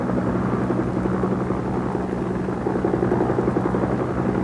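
A Vietnamese Air Force helicopter flies north from the South China Sea over the flooded Mekong Delta, its rotor and engine making a loud, steady, close drone with a fast, even chop throughout.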